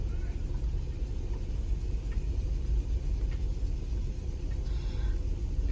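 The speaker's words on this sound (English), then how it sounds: "I've got a line of cars behind" A line of cars idles and creeps along behind horses out hacking on a hot morning road, a steady low engine rumble close behind, constant throughout with no talk.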